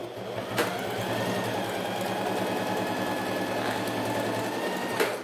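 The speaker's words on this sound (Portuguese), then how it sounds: "Aqui, eu vou passar uma costura de novo, porque ficou muito na beirada." A sewing machine runs steadily while stitching a thermal lunch bag, a continuous close mechanical whir with rapid needle rhythm and a couple of brief clicks.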